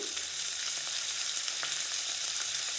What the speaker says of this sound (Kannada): ಕಟ್ ಮಾಡಿರುವಂತಹ ಕ್ಯಾರೆಟನ್ನು ಹಾಕ್ಕೊತಾ ಇದ್ದೀನಿ